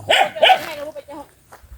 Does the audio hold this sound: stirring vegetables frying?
no